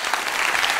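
An audience at a French comedy show applauds, a dense even wash of clapping that runs through the whole short moment with no voices over it.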